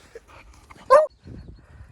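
Dogs outdoors give one short, loud bark or yelp, close by, among quieter snuffling and faint whimpers, with a voice speaking briefly around it.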